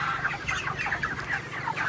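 Inside a poultry farm, many chickens cluck together in a dense, continuous chorus of overlapping clucks that stays close and fairly loud throughout, with no talking.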